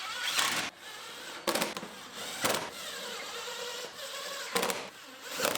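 An impact driver runs screws into the front bumper cover of a 2020 Toyota RAV4 XSE hybrid, with several short loud bursts of hammering rattle separated by quieter workshop background.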